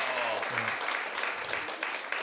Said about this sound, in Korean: 우리 수고하신 선생님들께도 박수